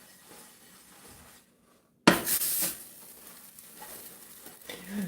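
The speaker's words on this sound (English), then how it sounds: "Sizzle! Sizzle!" After a quiet moment, eggs hit a hot frying pan with a sudden loud hiss, then keep frying with a softer crackling sizzle.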